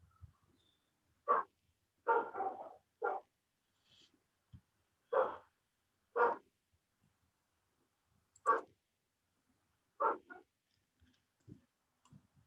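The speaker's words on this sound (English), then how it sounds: "There's a dog barking, so I off all your mic." Dog barking at a distance, a series of short single barks spaced irregularly over several seconds with near silence between them.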